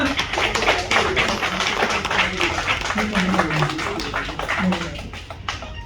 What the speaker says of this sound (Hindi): और जोरदार तालियां।